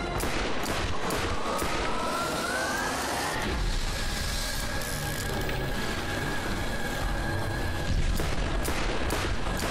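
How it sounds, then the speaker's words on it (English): Gunfire in the video game Borderlands during a boss fight against the Destroyer, with rapid bursts and weapon effects layered over constant loud battle noise, with a rising whine and sharp crack-like streaks throughout. "Shoot it in the eyes."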